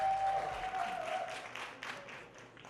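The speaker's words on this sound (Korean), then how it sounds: "박수!" A church high-school audience applauds after a student election speech, a burst of clapping that gradually thins and fades, alongside a brief tonal hum at the start.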